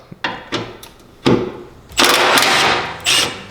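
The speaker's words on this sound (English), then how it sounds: "You did hear it have to impact a couple times to get that off." Second-gen Milwaukee M12 stubby 3/8-inch impact wrench hammering a stubborn rusty bolt loose: sharp short bursts, then a sustained loud rattling run of impacts and one final brief burst, all close and with no talk.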